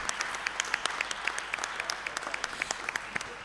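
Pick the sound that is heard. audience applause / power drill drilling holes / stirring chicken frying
audience applause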